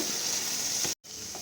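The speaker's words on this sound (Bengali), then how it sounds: "তারপর এখানে যে আমি আলুগুলোকে কেটে রেখেছিলাম সেগুলো আমি অ্যাড করে দেবো।" Cut potatoes sizzle in a pan with a steady close hiss. A brief dropout cuts the sound near the end before the sizzle resumes, and no one speaks.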